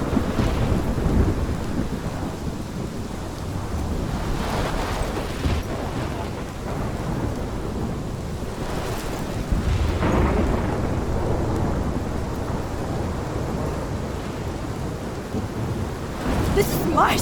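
A thunderstorm with heavy rain in the video game Life Is Strange: a dense, steady roar of rainfall with rolling thunder rumbles swelling and fading throughout, loud and continuous, with no voices.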